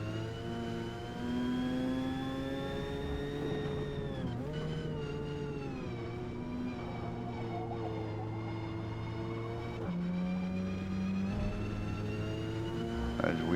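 A Mazda RX7 engine in the Forza Motorsport racing game holds a loud, buzzy rev at Maple Valley. Its pitch dips and climbs through gear changes, with a continuous close drone throughout and talking underneath.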